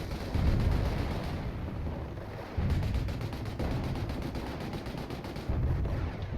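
Panzerwerfer rocket artillery pounds an area in the strategy game Company of Heroes: repeated heavy, rumbling blasts arriving in waves, with a dense, continuous low roar between impacts.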